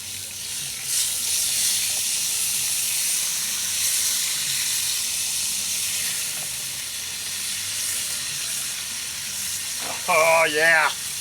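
Beef searing in a pan with beef broth, onion, garlic and mushrooms, a steady close hiss and sizzle that runs throughout, with a short burst of voice near the end.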